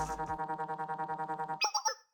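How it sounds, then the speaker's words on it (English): A phone ringing in the video game Blue Archive: a rapid, warbling electronic trill of evenly pulsing tones, followed by a few brighter chime-like beeps before cutting to silence. "What? A phone call!"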